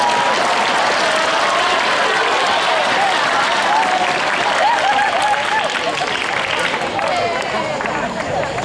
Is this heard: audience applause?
yes